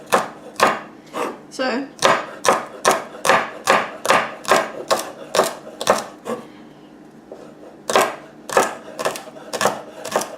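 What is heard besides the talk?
knife chopping food into bits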